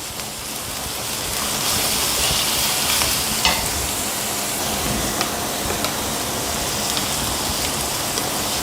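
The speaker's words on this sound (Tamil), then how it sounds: "இது எல்லாத்தையும் நல்லா வதக்கிக்கோங்க." Chopped vegetables with finely cut green chili sauté in a hot pan for vegetable fried rice, a loud, continuous close sizzle with occasional scraping stirs and light clicks throughout.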